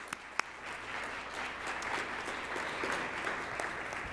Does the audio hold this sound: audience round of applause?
yes